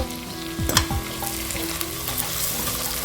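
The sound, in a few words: sautéing onions with ginger garlic for egg biryani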